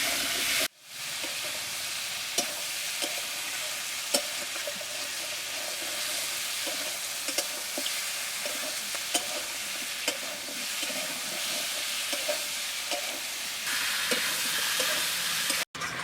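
Chicken pieces frying in a pan for a Bengali chicken dish, giving a loud, constant sizzle with scattered sharp scrapes of stirring, close up and uninterrupted by speech.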